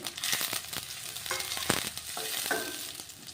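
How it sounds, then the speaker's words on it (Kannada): Green chillies hitting hot oil in a frying pan while making restaurant-style vegetable noodles, giving a bright continuous sizzle with crackles and stirring scrapes, close and loud. "ಈಗ ನೋಡ್ರಿ, ಹಸಿ ಮೆಣಸಿಕಾಯಿ ಹಾಕ್ತಿದ್ದೀನಿ."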